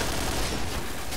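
Gunfire in the shooter game Point Blank: a dense, continuous burst of rapid shots, loud and close, with no talk.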